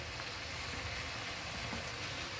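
Beans and tomatoes sauté in a pan with a soft, continuous sizzle, an even low hiss that holds steady without breaks or voices.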